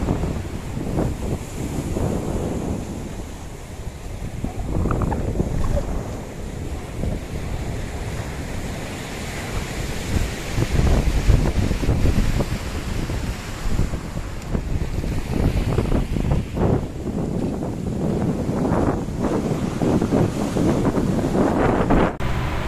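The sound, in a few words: surf and wind at Thotlakonda beach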